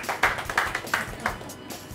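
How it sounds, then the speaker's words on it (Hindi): Several sharp hand claps in an irregular burst at an amusement park, fairly close and loud, with faint voices behind. "तालियां बजाओ मेरे सब।"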